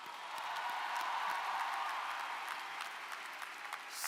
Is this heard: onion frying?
no